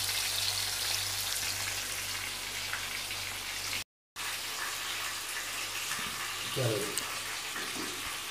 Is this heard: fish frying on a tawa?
yes